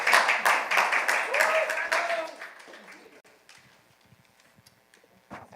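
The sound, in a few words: clapping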